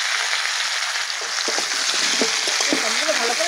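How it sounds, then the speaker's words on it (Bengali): Beans, potato and cut eggplant frying in fish oil in a pan, a steady close sizzle and hiss with a few soft stirring knocks, no talk. "এবার মাছের তেলে সবজিগুলো ভেজে নেব। দিয়ে দিচ্ছি বিনস, আলু, এবার দিয়ে দিচ্ছি কেটে রাখা বেগুন।"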